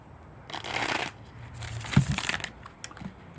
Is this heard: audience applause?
no